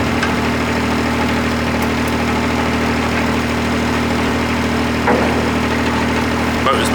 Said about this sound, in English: Have to hope the mixer starts now.